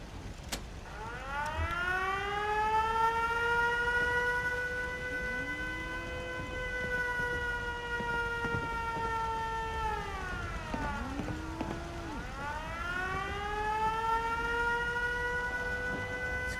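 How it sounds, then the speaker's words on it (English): An outpost alarm siren sounded by a sentry in Fallout 4 wails in long rising and falling sweeps, winding down and starting up again, loud and sustained over a quiet background. "the sentry can turn around and sound the alarm"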